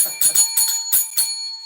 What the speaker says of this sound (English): So I just went on eBay and bought myself a shop bell